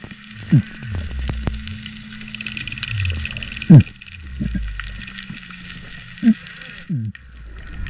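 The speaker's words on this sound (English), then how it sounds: "There's whales everywhere. Um, you can hear them in the water constantly." Whales calling underwater during a spearfishing trip from a trailer boat: repeated rising and falling moans and short upswept whoops, some loud and close, heard over a constant crackling underwater hiss.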